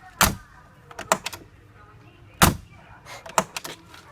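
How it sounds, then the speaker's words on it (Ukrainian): Several sharp thumps of a Mercedes G400 CDi (W463) door shutting, one loud solid slam in the middle, with quieter clicks and knocks around it. "Ви послухайте, як тільки двері зачиняються."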